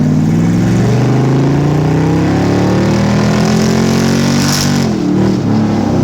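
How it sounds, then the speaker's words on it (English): An LS3-swapped 1975 Datsun 260Z pulls hard under acceleration, its V8 droning loud and steady with a rising rumble, easing briefly near the end before carrying on. "we're just gonna give you a quick little acceleration run so you can see how the car gets up to speed"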